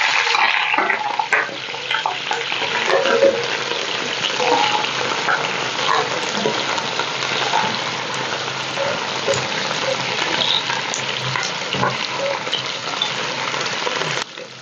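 Half a kilo of washed chicken necks frying in hot oil for chicken yakhni, a loud, dense, crackling sizzle that runs steadily without a break.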